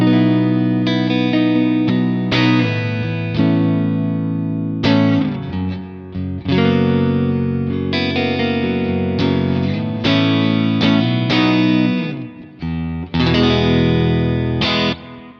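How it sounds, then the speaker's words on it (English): Electric guitar played through a Kemper profiler in performance mode with effects engaged, giving a distorted, chorused tone. Loud, sustained chords and riffs ring continuously with brief gaps, and no voice is present. "My guitar sounds like this."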